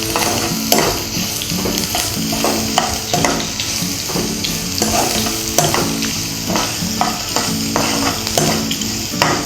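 Rava upma ingredients sautéing in a pan, with a steady sizzle of frying under repeated scraping and clacking strokes of a stirring spoon, close and continuous.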